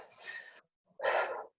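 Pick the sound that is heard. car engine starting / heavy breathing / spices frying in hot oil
heavy breathing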